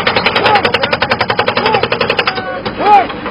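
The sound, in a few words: jackhammer boom striking during bear rescue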